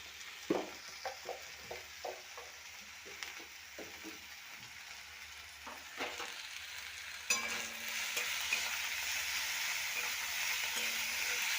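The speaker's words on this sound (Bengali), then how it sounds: "লো ফ্লেমে হালকা করে ভেজে নেব" Carrots and potatoes fry gently with a little salt over a low flame, starting with scattered soft pops and stirring clicks, then settling into a faint, steady sizzle.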